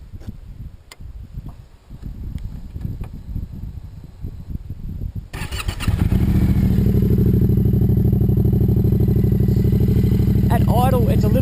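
Light clattering and handling noises come first, then a motorcycle fitted with a new high exhaust starts and settles into a loud, steady idle close by.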